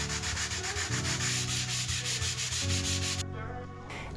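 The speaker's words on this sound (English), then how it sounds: "I grabbed a bit of sandpaper to go over the transfer." Sandpaper rubs back and forth over a sticker transfer on an old wooden chest in steady, rhythmic strokes, close and continuous with no talking.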